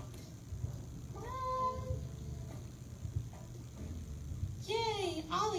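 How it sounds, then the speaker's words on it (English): A cat meowing near a tree, one drawn-out meow early on and a louder wavering meow near the end, close by over a low background hum with light talk. "Ollie, my cat is stuck in the tree and I can't get him down."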